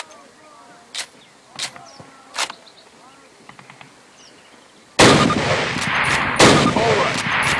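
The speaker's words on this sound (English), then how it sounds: "Now fire 2 rounds at your target while aiming down your sight." Carbine rifle fire in the Call of Duty training course: a few sparse sharp shots with faint background activity, then a sudden loud burst of rapid, sustained firing that continues to the end.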